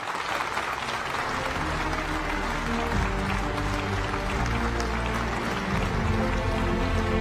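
Sustained applause fills a large arena at a Law and Justice (PiS) party convention in Warsaw, a steady dense wash of clapping with a low hum of music or crowd beneath, continuous for the whole stretch.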